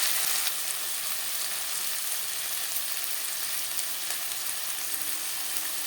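Tomatoes frying lightly in a pan for a vegetarian chana dal, giving a soft, steady sizzle that hisses on evenly throughout with no voices.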